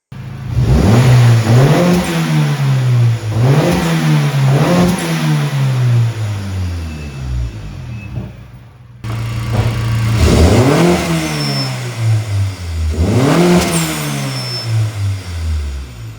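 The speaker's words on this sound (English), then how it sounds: "I recently installed NGR's blow-off valve. Absolutely amazing sound." A car fitted with an NGR blow-off valve revs repeatedly, each rise cut off by a vent as the throttle drops, first on its softest setting and then turned toward hard. The engine sounds close and loud, with no one speaking.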